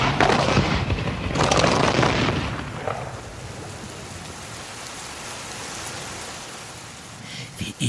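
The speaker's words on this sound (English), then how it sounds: "they pound Gate Par with the heaviest artillery bombardment in New Zealand history" Heavy artillery bombardment on Gate Pa in New Zealand, loud rolling booms and rumbling blasts in the first seconds that fade into a sustained dense roar like heavy rain, with no voices.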